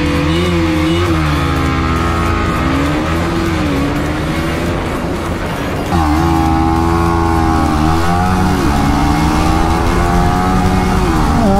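A KTM Duke 200 and a Yamaha MT-15 race side by side, their engines droning loud and steady with rising and falling pitch as they accelerate and shift, a brief dip near the middle before the revs climb again.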